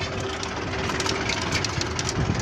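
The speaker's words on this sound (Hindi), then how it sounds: "ट्रैक्टर के ऊपर बैठ चुके हैं और हम जा रहे हैं अपना ट्रैक्टर लेकर" A Belarus 510 tractor runs in a village, its diesel engine chugging loudly and steadily at close range with a rough, knocking texture and no talk over it.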